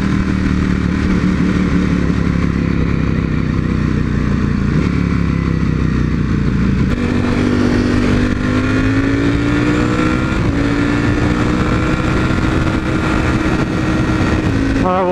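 A motorcycle engine runs continuously at speed, a loud, steady droning roar with rising and falling engine tones and wind rush, with a brief shift in pitch partway through.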